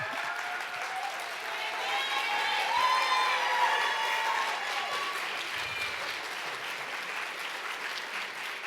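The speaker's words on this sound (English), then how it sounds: "You got more applause than I did" A live audience at a talk event applauds and cheers steadily for several seconds, a broad wash of clapping with voices rising over it.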